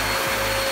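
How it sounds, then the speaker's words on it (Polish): A vacuum cleaner runs with a loud, steady motor whine and airflow roar, close by and continuous throughout the short moment. "Potrzebny nam będzie odkurzacz i mocna śmierćca."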